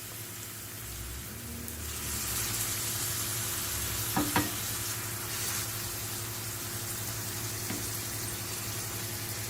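Frozen spinach added to golden frying onion in a pan, a steady close sizzle and hiss with a couple of brief clinks partway through, continuing evenly throughout.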